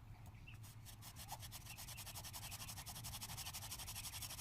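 A bow drill spindle turns against a wooden fireboard under natural cordage, giving a quiet, rhythmic back-and-forth rubbing and squeaking that repeats steadily over a low background rumble.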